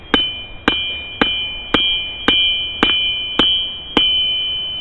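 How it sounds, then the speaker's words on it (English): A hammer strikes hot metal on the corner of an anvil while forging tongs, eight sharp ringing blows at an even pace, each followed by a brief sustained metallic ring, close and loud. "Drive down on that corner of the anvil."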